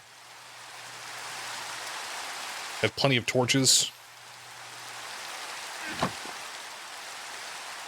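Steady soft rain falls in the Minecraft video game, a constant hiss that continues before and after someone briefly speaks, with a faint low game tone underneath.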